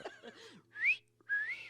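A whistling sound effect plays from a soundboard, two rising 'weet-woo' style whistles in quick succession, clear and fairly loud after a brief bit of speech.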